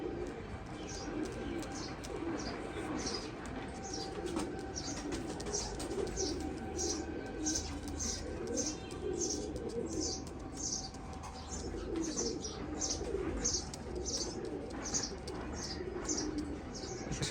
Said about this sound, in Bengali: এক পেয়ার টেডি কবুতর।